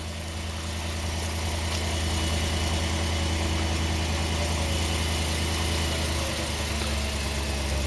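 A Volvo S80 4.4 V8 engine idling on choke after a cold start, steady and loud nearby, a deep continuous rumble with a slight shift in tone partway through as it settles, no voices.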